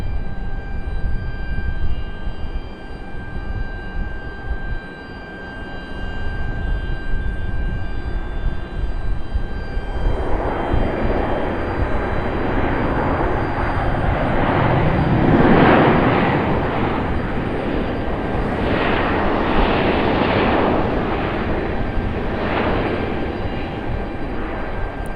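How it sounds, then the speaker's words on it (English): A United Boeing 737 passenger jet at Raleigh-Durham International Airport roars past at a distance, its engine noise swelling in the second half and lingering over steady background hum, with no talking. "Looks like a United 737."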